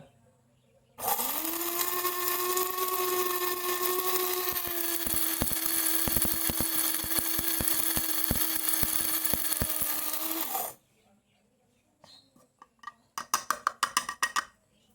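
A mini mixer grinder grinding rice that stays in coarse grains: a steady, high motor whine for about ten seconds, peppered with hard rattling clicks of grains striking the jar, then stopping, followed by a few loose clattering knocks.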